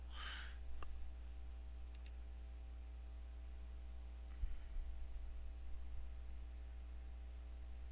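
A computer mouse button clicks once sharply, followed by a few fainter ticks, over a steady electrical hum in a quiet room.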